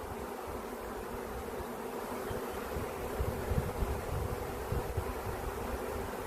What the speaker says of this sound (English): you can see how I got a big old bunch of bees right there